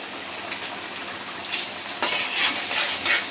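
Mustard seeds are tipped into hot oil in a pan and start a bright, crackling sizzle that swells partway through, with light clinks of a utensil over it.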